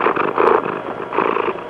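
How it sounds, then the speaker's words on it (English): Close, loud purring from a cat, a continuous rumbling purr that swells and eases in two rhythmic breaths with no voices over it. "Radio Cat is on the premises."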